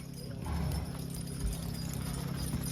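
A lightweight draft horse team moves at a horse pull at Black Creek, hooves thudding in a soft, uneven clip-clop over low rumbling background noise.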